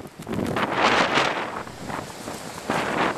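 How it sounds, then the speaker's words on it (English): Strong gusts of wind roar through a blizzard, surging in rushes that buffet the microphone, with a brief lull before another blast picks up near the end. "another gust. This one's stronger than the last."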